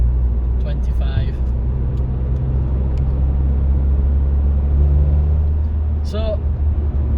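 Steady, loud low-end engine drone and road rumble inside a Ford Fiesta ST150 cruising at 35 mph, unchanging throughout, with brief voices or noises breaking in now and then.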